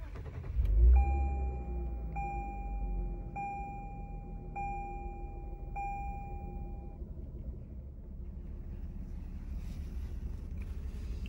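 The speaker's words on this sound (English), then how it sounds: "Let's go ahead and start the vehicle." A 2020 Lexus IS350 F Sport starts with a short cranking thump, then settles into a low, quiet idle while a door-open chime repeats several times.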